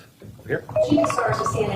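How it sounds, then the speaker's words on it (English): A phone alarm rings with repeated electronic tones during a state press conference after a criminal sentencing, partly buried under someone speaking. "Oh, that's my alarm, but it's not my phone."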